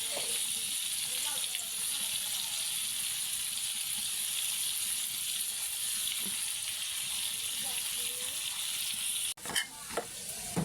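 Skin-on pieces frying in a pan give a steady, loud sizzle throughout, with occasional stirring scrapes and a sharp clatter near the end.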